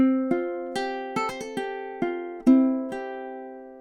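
Ukulele picking a short Christmas carol phrase from Deck the Halls, clean plucked notes ringing out one after another in an uneven rhythm, close and clear with no voice.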